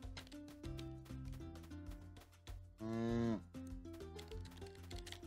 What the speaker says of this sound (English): Where's our other cow at?